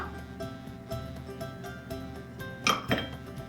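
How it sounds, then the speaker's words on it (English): An egg being lightly beaten in a bowl for Irish soda bread: two quick utensil clinks near the end over a steady low kitchen hum. "So you want to just slightly beat the egg"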